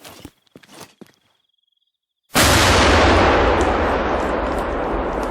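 A large firework bomb goes off. After a few faint knocks and a moment of silence comes a single huge, close blast, followed by a long, loud rumbling roar that fades slowly.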